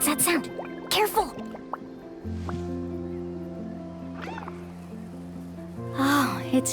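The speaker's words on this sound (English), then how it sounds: "Oh, it's just a young Kaholosaur." A young Kaholosaur creature in the video game Genshin Impact gives a few short chirping, squeaky calls at scattered moments over steady background game music and ambient tones.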